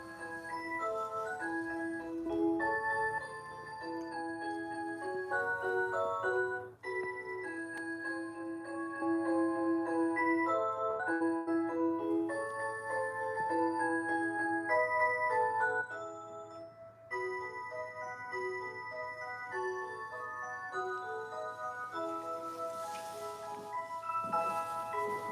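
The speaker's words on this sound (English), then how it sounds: "There are 27 clocks. 5 different models, 27 clocks." A roomful of 27 rhythm clocks in five models tick together, their overlapping ticks and chiming melodic tones ringing steadily and clearly with no one speaking.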